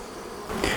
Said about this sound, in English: So since I'm going to be shaking bees off of all the frames, I have to find the queen